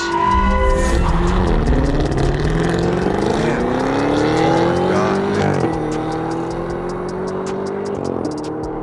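A Cadillac CT5-V Blackwing, a Tesla Model S Plaid and a BMW M5 CS race, with loud engine roar climbing in pitch through the gears and a shift before settling into a steady drone.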